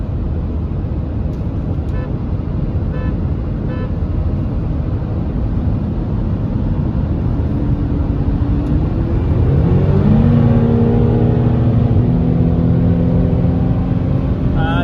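During a street rematch against a BMW X5M, a steady road rumble gives way to a car engine revving and climbing in pitch as it accelerates hard, loud and close throughout.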